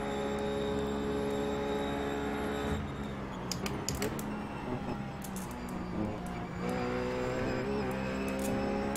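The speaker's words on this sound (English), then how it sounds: "there goes the McLaren" McLaren race car in a GT racing game at Watkins Glen, its engine droning steadily before a loud pass-by around three to six seconds, with clicking keys over the top.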